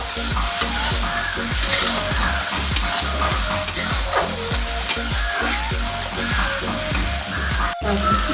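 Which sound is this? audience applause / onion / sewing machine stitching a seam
onion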